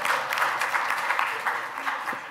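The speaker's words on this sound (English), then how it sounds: "Let's give the extra credit folk a hand tonight." Audience applause for extra credit students at an evening class, a steady wash of many hands clapping up close, easing slightly toward the end, with a voice talking over it.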